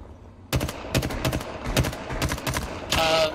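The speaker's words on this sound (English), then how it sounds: "People shooting over there. Yeah, I heard it." Distant gunfire in a shooter video game: a string of sharp, rapid shots in irregular bursts, with a denser rattling volley at the end, fairly loud and without talking.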